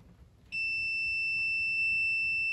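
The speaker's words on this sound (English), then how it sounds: "it should connect to the pin and make a quick beep" A continuity tester touches a trailer brake connector pin during a Redarc brake controller install on a Lexus LX470, giving a clear, steady electronic beep that starts abruptly after a quiet moment and holds to the end.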